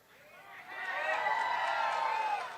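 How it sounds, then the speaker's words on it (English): A large crowd at a Bassmaster Elite Series fishing weigh-in on Santee Cooper Lakes, swelling into loud cheering and whooping that holds steady before easing off slightly. "look at this crowd."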